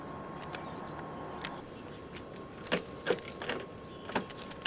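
Keys jangle in short metallic bursts near a car, a few clustered shakes coming louder toward the end against a quiet background.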